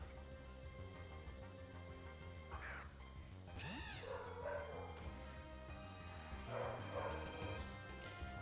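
An old dog barks indoors, a few sharp yaps around the middle of the stretch, set against steady background music-like tones with no talking.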